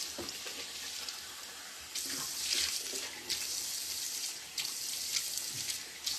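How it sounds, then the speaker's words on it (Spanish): Tap water running into a sink as a face is rinsed, a steady close hiss with brief surges and splashes as hands cup and splash the water, no talking. "Oye, espérate, me voy a enjuagar la cara."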